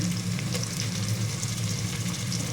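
Pieces of fish simmer and fry in a pan for fish curry, a dense, continuous sizzle heard close up and alone.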